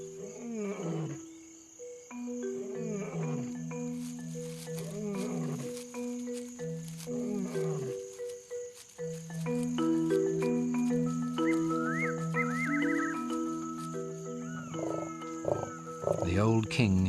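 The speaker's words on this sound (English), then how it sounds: "who also heard the male lion's roars" A male lion in the African wild gives a series of deep, rumbling roars over the whole stretch, heard beneath a continuous musical score.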